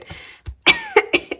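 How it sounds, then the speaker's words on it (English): A person gives a quick series of four or five short, harsh coughs, close and fairly loud, with brief gaps between bursts and no talking. "coughing in COVID days"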